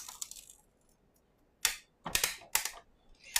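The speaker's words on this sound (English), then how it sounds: "Don't worry if you hear that crinkling sound." A die-cutting machine rolls back with loud, crinkling crackles in a few separate bursts, the first ones faint and the last three sharp and close, with quiet gaps between them.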